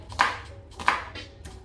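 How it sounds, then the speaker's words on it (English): A knife chops onions for a vegan lentil soup, giving two or three distinct, close taps on a board spaced well apart. "So you cut the onions, you cut the garlic"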